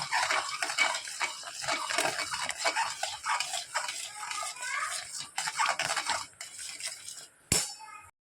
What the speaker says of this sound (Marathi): मस्त असं आणि हलवत राहायचं आहे म्हणजे ह्या गुटल्या होणार नाही